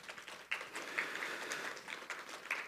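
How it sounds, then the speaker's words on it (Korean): An audience at a Korean metaverse conference session claps to welcome the next speaker: a faint, steady wash of applause that sounds somewhat distant and carries on throughout. "여러분 박수로 환영해 주시기 바랍니다"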